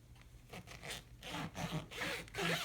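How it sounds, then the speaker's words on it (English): A zipper on an in-the-hoop embroidered bag is pulled open in several rasping strokes, close and fairly quiet, with short pauses between pulls and growing louder toward the end. "The unzip is like super, super important. So I'm gonna do that one first."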